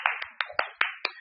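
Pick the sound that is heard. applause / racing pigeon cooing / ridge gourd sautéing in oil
applause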